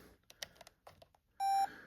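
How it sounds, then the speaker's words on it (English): A few faint clicks and handling noises, then a Sony CCD-TRV328 Hi8 Handycam camcorder powers on with a single clear electronic beep, steady and bright, lasting about a quarter second. "I heard a beep"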